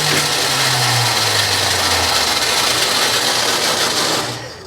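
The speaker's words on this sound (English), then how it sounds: "That's that lovely Mopar starter doing its grind down, wind down." The starter on a 1974 Dodge Dart with a 225 Slant 6 cranks the engine in a loud, steady mechanical whir with a falling grinding tone, then winds down abruptly at the end without the engine catching.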